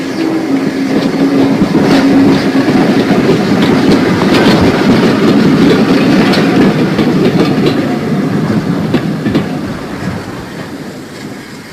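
An 1888 LNWR 2F class steam locomotive, number 1054, hauls an observation car past at close range, a loud rumbling run with rhythmic wheel clatter that gradually fades as it moves away.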